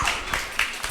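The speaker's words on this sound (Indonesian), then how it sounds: "Tepuk tangan." Children clap their hands at an Easter Sunday school service in quick, even bursts, about four claps in one second.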